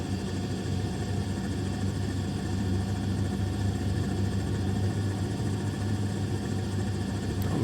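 Robinson R44 Raven II helicopter engine and rotor in Microsoft Flight Simulator 2020, a loud, steady droning hum that holds unchanged through a slow hover taxi.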